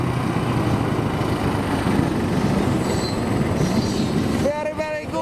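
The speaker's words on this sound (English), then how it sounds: "Every time I want to film, there's always a train going by." A train rolls past on railway tracks, a continuous loud rumble of wagons with faint wheel squeals, ending in a burst of high screeching near the close.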